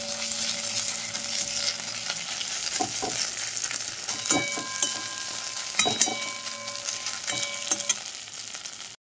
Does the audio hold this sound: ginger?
yes